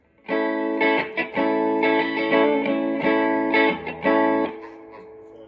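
An Epiphone Les Paul played through a Dolsey amp with the fat switch disengaged rings out in sustained, slightly distorted chords with reverb, struck several times in a row with no talking.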